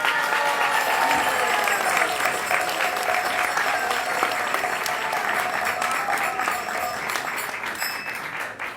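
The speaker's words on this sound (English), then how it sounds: "go ahead, you can clap your hands" Sustained applause from an audience at a spiritual lecture fills the space, steady and dense with a few scattered cheers, fading slightly near the end.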